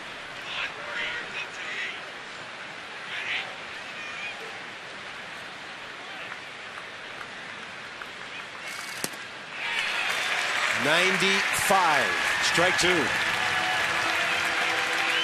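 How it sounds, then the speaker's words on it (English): Baseball crowd at a Rockies–Nationals game in Washington cheers and applauds loudly after a strike, a broad swell of roaring noise with a whistle rising over it, following an announcer talking over quieter crowd murmur. "They cheer their right-hander along"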